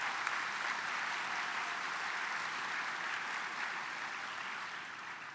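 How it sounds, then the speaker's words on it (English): An audience at an awards luncheon gives sustained, dense applause, a steady wash of many hands clapping together that tapers slightly toward the end, with no voices over it. "Please, now you can applaud for all this"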